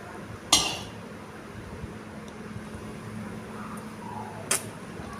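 Raw mango pickle being stirred with oil in a pan, heard as a couple of sharp metallic scrapes and clinks of the spoon against the pan over a quiet, steady background.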